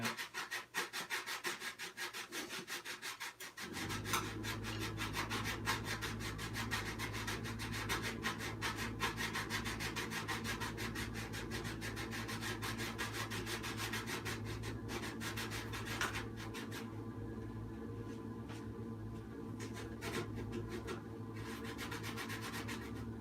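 Sandpaper rubbing back and forth over an epoxy-coated wood surface in rapid steady strokes, close and continuous for the whole stretch, with a low hum underneath and no talk.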